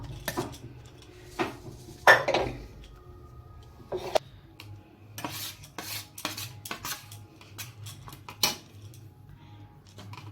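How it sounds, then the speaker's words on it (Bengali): Drained boiled potatoes tipped into a dish in a home kitchen, giving several scattered clinks, scrapes and knocks of cookware, fairly quiet with a low hum beneath and no talk. "আলুটা এবার ঝরিয়ে ঢেলে দিলাম।"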